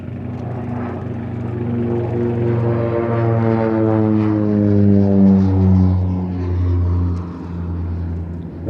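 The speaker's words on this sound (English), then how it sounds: "Now this is a two-seat twin-engine style, fully aerobatic turboprop light attack and counterinsurgency aircraft." A two-seat, twin-engine turboprop light attack and counterinsurgency aircraft flies at the Midlands Air Festival at Ragley Hall, its loud propeller drone swelling and shifting in pitch as it passes.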